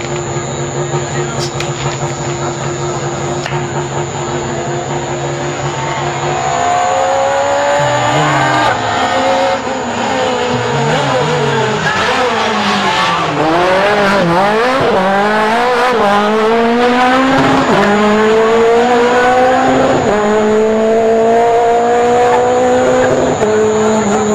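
A rally car accelerates hard on a stage of the Rallye des Grands Fonds, its loud engine note climbing and shifting through gears up close while a commentator talks over it.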